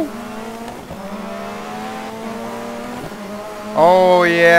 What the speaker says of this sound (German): Schlitten fahren mit einem 520 PS starken Boliden